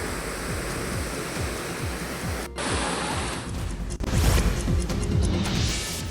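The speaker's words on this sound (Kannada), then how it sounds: "ಜಲಪಾತಗಳ ವೈಭವ ಕಣ್ಮನ ಸೆಳೀತಾ ಇದೆ" Waterfalls swollen by heavy rain at Sogala in Bailhongal taluk, Belagavi, pour with a loud, dense roar of crashing water that shifts abruptly across a few cuts between shots.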